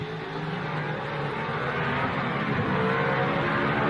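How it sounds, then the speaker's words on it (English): 1955 Mercedes racing cars at the Monaco Grand Prix roar past together, a loud, continuous, slightly rising engine drone with no voices over it. "The two Mercedes have closed right up now and proceed to give a fine demonstration of team driving, Moss not attempting to overtake Fangio."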